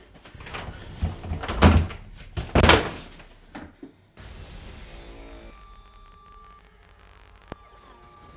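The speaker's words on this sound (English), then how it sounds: "I opened the door" A door opening in a horror film scene: a few loud, heavy knocks and thuds come close together near the start, then an abrupt cut to quieter room ambience with a faint tone.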